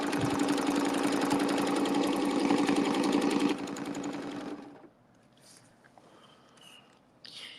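A sewing machine stitching a quilt and driven by foot control whirs loudly and steadily for about three and a half seconds, then slows and stops. Faint quiet handling sounds follow.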